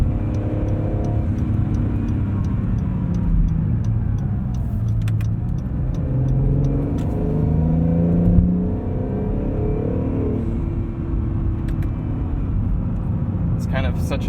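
A 2020 Acura NSX drives along with its engine note rising and falling through automatic gear changes, a steady cabin drone under continuous talking.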